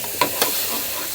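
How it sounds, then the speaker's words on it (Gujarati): Cumin seeds crackle in hot oil while vegetables are tempered, giving two sharp pops in quick succession over a soft, steady sizzle, close and fairly quiet. "લે જીરું તો ફૂટે ગયું"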